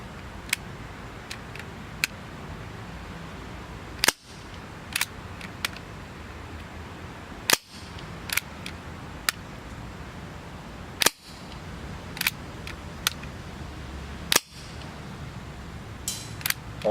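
Sharp, evenly spaced reports from a Y&P MK23 airsoft pistol firing BLS 0.45 g BBs outdoors, four loud shots at roughly three-and-a-half-second intervals, with fainter ticks from the pellets landing in between.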